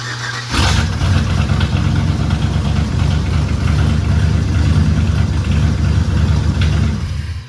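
A totaled Chevy truck with no throttle linkage cranks and catches, then settles into a loud, steady, rumbling idle that runs close by for about seven seconds.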